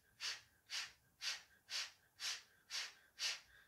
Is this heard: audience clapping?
no